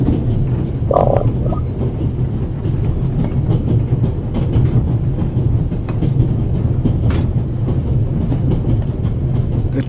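A train rolls along rails in a video game, a steady low rumble with faint clattering that holds evenly from start to finish and has no talk over it.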